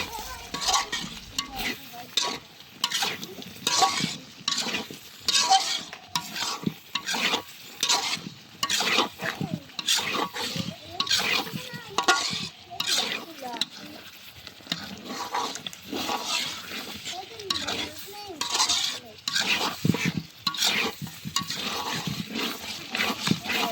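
Food is stirred in a pan with ghee as sauce goes in, giving a busy continuous scraping and sizzling texture with frequent utensil strokes against the pan throughout.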